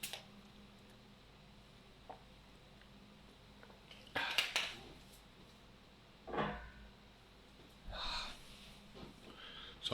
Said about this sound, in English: give me 1 second, clear my throat